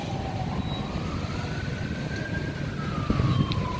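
An ambulance siren wails continuously with a slowly rising and falling tone, heard from a distance over steady traffic rumble and street noise at the Alun-Alun square in Malang, Indonesia.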